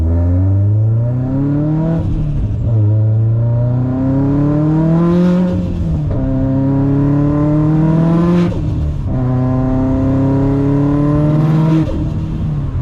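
A 760whp Subaru STI running E85 with large injectors, accelerating under boost: loud, close engine drone rising in pitch through several gear pulls, each ending in a brief shift break.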